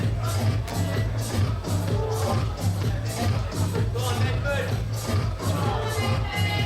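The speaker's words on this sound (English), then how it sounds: "Lots of cheering going on for Flo" A crowd cheers and murmurs steadily for Flo, a competitor at a CWIF 2015 semi-final wrestling event, with a continuous hall hubbub and commentary voices over it.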